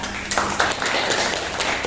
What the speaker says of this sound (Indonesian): Beri tepuk tangan untuk Jessica.